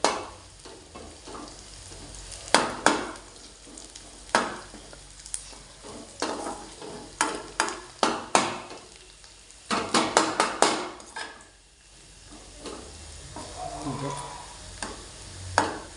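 Vegetables frying in a little oil in a pan while being stirred, with soft sizzling under repeated scraping and clinking of the utensil against the pan, close by.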